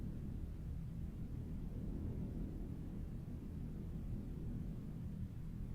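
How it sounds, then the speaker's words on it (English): Deep, steady rumble of an approaching storm in the video game Heat Death: Survival Train, a continuous low roar holding at the same level throughout with no distinct peaks. "Sounds like a storm might be coming."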